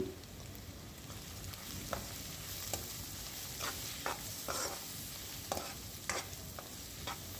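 Bitter gourd fries in a pan with a faint, continuous sizzle, broken by occasional soft stirring scrapes and taps, quiet and close with no speech.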